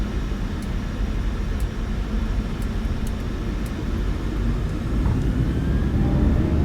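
PMDG 737 jet engines spooling at takeoff thrust in Microsoft Flight Simulator 2024 make a steady, loud, broadband roar and rumble that continues for the whole stretch, with faint clicks above it.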